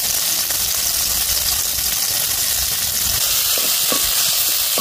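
Onions fry in oil for a Mangalore-style broiler chicken sukka, a loud, steady sizzle with soft occasional stirring clicks near the end and no voices.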